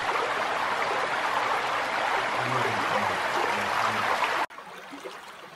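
A creek flows steadily through a redwood forest, a loud, continuous broadband rush of water that cuts off abruptly near the end, leaving a much quieter ambience.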